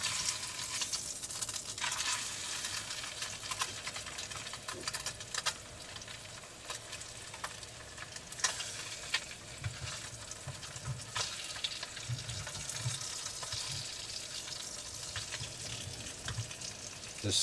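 Food sizzles and crackles steadily in a pan over a low campfire at a cookout on Santa Rosa Island, a faint, continuous hiss with occasional stirring scrapes and clinks.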